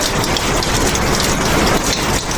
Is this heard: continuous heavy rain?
yes